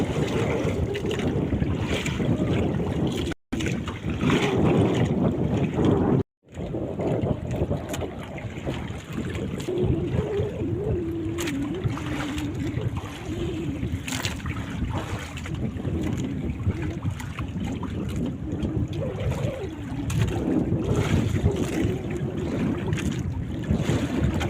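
Large sea waves and strong wind rush steadily around a boat at sea, a loud continuous wash with buffeting wind noise on the microphone and a couple of brief dropouts.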